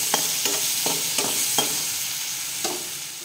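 Potatoes frying in a pan: an even sizzle under a series of about six distinct spatula knocks and scrapes at irregular intervals, with no talking.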